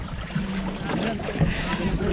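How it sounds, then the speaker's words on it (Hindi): A boat carries passengers on a half-hour ride around a river in Silvassa, a steady motor drone and water wash running throughout with some faint voices in the background. "350 है for half an hour we are doing boating"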